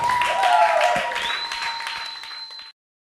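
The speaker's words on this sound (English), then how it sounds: "So can you all give him a round of applause for Mr. Tim Goad?" An audience applauds for Tim Goad at a leadership event, a loud burst of clapping that swells early and slowly tapers before cutting off abruptly, with a sustained tone ringing underneath.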